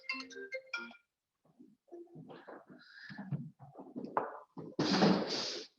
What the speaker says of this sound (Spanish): Perdonad que ya está suena el teléfono y lo vamos a quitar.